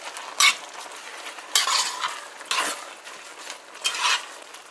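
Cook-up rice seasoning being stirred in a pot, four distinct scraping sweeps of a spoon against the pot at roughly one-second intervals over a faint background sizzle, close up.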